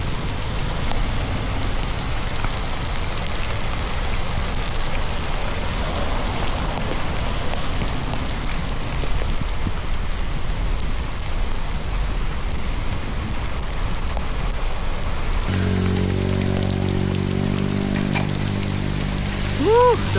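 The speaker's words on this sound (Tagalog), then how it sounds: "So ito guys, bubuhos na yung ulan." Heavy rain pours steadily during a bike ride, a loud, even hiss of drops on surfaces throughout, with a shift in texture near the end.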